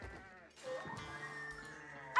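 Sheep bleating in an Age of Empires-style strategy game while villagers herd them, several short, clear bleats in quick succession over a quiet game soundscape, with no talk over them.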